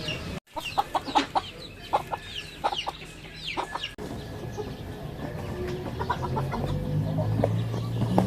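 Loose backyard chickens cluck in short repeated bursts close by, followed by a steadier low rumble of background noise with fainter clucks.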